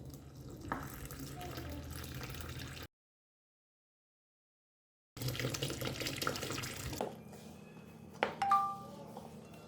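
Water runs steadily from a tap in two stretches separated by a brief silence, followed by a few small clinks close by, while adding water with yeast and sugar to wholemeal flour for bread dough.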